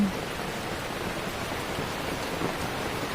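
Rain drums steadily on a saung, a small open field hut, a constant close wash of patter that stays level throughout, with no voices.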